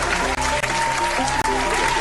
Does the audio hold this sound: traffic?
no